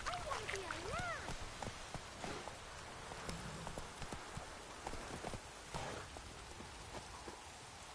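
Steady clip-clop of a horse's hooves, Geralt's mount Roach, in the video game The Witcher 3, trotting along under a soft rain-like wash of background ambience, with some speech-like sounds mixed in.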